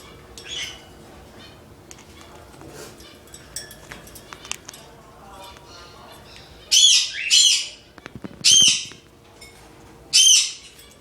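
A bird gives four loud, harsh squawks close by, arriving in quick bursts in the second half, after a stretch of faint rustling and small clicks.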